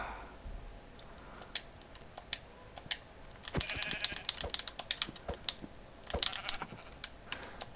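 Sheep in the Minecraft video game bleat a few times, faint and short, amid a steady patter of computer keyboard clicks and mouse taps.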